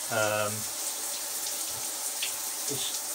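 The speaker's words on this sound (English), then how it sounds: "The splashing is because we've got the doors open at the moment on the shower screen." Water from a shower splashes steadily out through the open screen doors onto a square 800 mm shower tray, a constant broadband hiss with a brief voice at the start.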